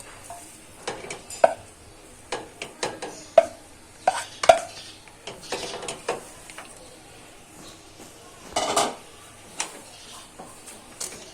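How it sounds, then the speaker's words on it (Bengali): Boiled potatoes frying in mustard oil in a pan, a soft sizzle punctuated by sharp clicks and scrapes of stirring against the pan, close and intermittent. "এই সরিষার তেলে আমি হালকা করে এই সেদ্ধ আলুগুলোকে ফ্রাই করে"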